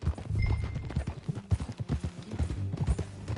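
Rhythmic clip-clop of horse hooves trotting at a steady pace in a video game, fairly close, with a faint background ambience and no talking.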